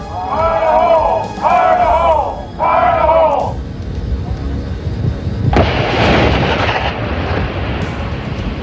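Test detonation of Marine explosive devices, a loud broadband blast erupting midway and rumbling on to the end, preceded by three short tonal bursts of another sound.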